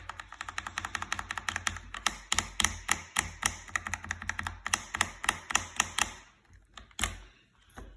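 Typing on a mechanical keyboard fitted with ABS keycaps, a close run of crisp clacking keystrokes in quick irregular bursts, with a short pause and a few final taps.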